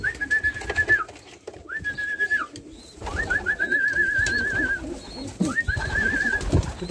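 Racing pigeons coo in several drawn-out, warbling calls, close and clear, separated by short pauses over a background of rustling and low shuffling.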